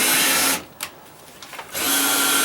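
A Bosch power drill driving a screw into wood without pre-drilling whines loudly, stops briefly with a few small knocks, then starts up again, driving hard at close range.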